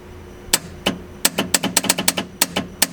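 Nitrous solenoids on an eight-turbo V8 Mustang fitted with a Nitrous Express kit, clicking in quick, irregular bursts of sharp ticks and taps, close up with no voices.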